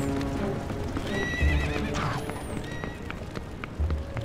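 Horse hooves clip-clopping at a gallop with a neigh in the Zelda: Twilight Princess HD video game, steady rhythmic hoofbeats under game music, with a player talking over them.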